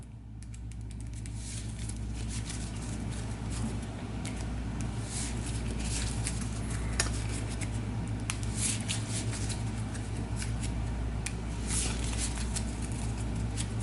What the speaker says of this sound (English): So we've got the tarot deck right here. I'll give it a quick shuffle.